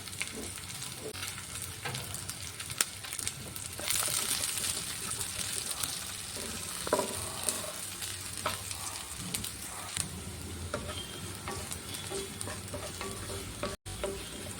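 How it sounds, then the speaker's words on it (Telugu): Onion fries in a pan for puffed rice upma, a busy continuous sizzle with frequent spoon stirs and scrapes close by, no talking. "తర్వాత ఇందులోనే కొద్దిగా ఎర్రగడ్డ కూడా వేసుకొని వేయించుకోవాలి బాగా"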